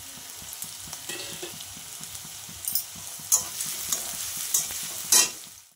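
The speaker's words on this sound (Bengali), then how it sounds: "দেখো আমি লঙ্কা, পেঁয়াজ, রসুন সবই একসাথে দিয়ে দিলাম। এগুলো একটু ভাজা হবে" Chili, onion and garlic fry together in a pan before water spinach is added, a steady sizzle with repeated stirring scrapes and clacks of the spatula, close and clear with no talk.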